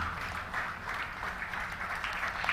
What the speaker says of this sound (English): Everyone standing, please accept our applause, gratitude, and respect.